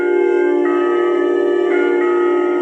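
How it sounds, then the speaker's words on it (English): The bell of old Nassau Hall ringing with a single sustained, resonant tone that hangs in the air and shifts slightly as it rings on, clear and alone. "I heard the first muffled tone of the bell of old Nassau Hall"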